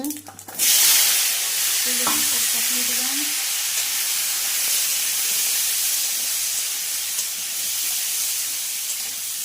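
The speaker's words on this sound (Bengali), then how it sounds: "আমি তেলে ফোড়ন দিব জিরে আর তেজপাতা ফোড়ন দিয়ে দিলাম" Oil sizzles steadily with a bright, constant hiss after a sharp onset as cumin seeds and bay leaves hit the pan, continuing unbroken throughout with a faint low hum beneath.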